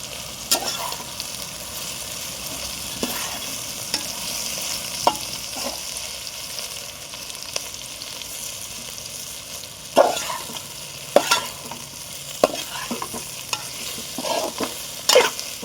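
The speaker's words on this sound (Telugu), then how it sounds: "ఇదంతా ముక్కలు పట్టేలాగా మొత్తం మిక్స్ చేసుకోవాలి" Okra pieces with garlic and chili powder are stirred and tossed in a frying pan, a soft ongoing sizzle broken by irregular scraping and clattering strokes, several louder near the end.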